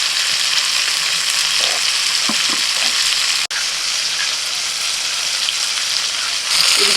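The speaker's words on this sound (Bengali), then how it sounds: "এদিকে সবজি ভাজা হয়ে গেছে" Vegetables sizzle and fry steadily in a hot pan for a village-style dish, a loud constant crackle with a few stirring scrapes and clicks.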